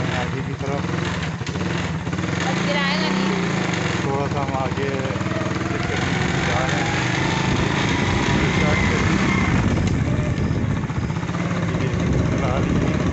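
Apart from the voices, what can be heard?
scooter engine running while riding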